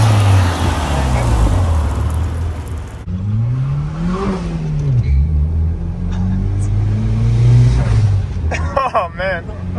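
A widebody Nissan 180SX Type X turbo engine revs up and down close by, its pitch climbing and falling as it comes into boost, while people talk over it.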